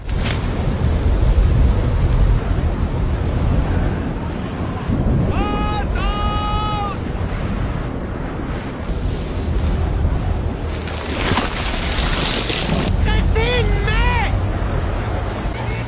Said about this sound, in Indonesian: Di tengah badai yang sangat ekstrim